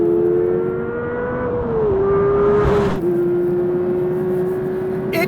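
A Porsche 911 GT3 Touring with a 4-liter flat-six engine wails at high revs, its steady, loud tone climbing, dipping briefly on a shift, then holding again, with a short burst of wind noise midway.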